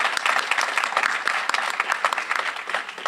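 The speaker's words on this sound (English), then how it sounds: "Let's give them a round of applause." An audience at an employee recognition ceremony gives a round of applause for absent 30-year employees. Dense, steady clapping from many hands fills the short stretch at moderate volume, with no talking.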